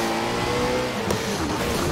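Koenigsegg Agera RS supercar in the racing video game Forza Horizon 4, its engine droning loud and steady at high revs from close by, with a brief tire squeal partway through and no talking.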